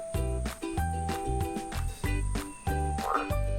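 A frog croaks in a steady, rhythmic series of short, buzzy pulses, about seven in quick succession, fairly close and alone without any talking.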